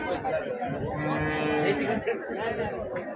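A large red Kandhari cow moos in a long, drawn-out low call close by at a cattle market, with faint voices in the background.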